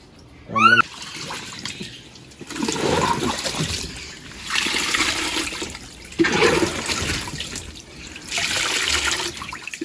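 Water surges into a snakehead fish pit on a Kerala farm in several rushing, splashing waves, each swelling and fading with brief lulls between.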